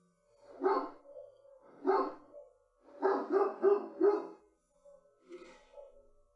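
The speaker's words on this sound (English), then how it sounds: "I'm going to go upstairs and see what George is barking at here shortly" A dog indoors barks in a string of sharp, spaced barks, with a quick cluster of three or four in the middle and a softer final bark, heard alone.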